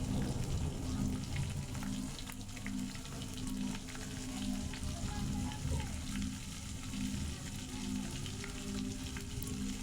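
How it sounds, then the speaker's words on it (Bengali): Dried fish, washed and rubbed with salt and turmeric, fries slowly in oil over low heat, a soft even sizzle with a low hum underneath that holds steady throughout, with no speech. "সুন্দর করে অনেকক্ষণ ধরে আস্তে আস্তে জাল দিয়া ভেজে নিতে হবে।"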